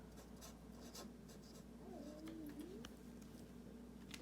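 Soft scratchy strokes of writing, probably a crayon or pen on paper, rub along quietly against a faint steady background hum with no talk.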